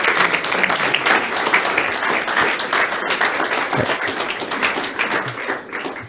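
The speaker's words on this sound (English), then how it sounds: "Please, a round of applause for our folks." Steady applause from an audience at a community meeting on affordable housing in Simsbury, Connecticut, dense and fairly loud, holding evenly for about six seconds with no voices over it.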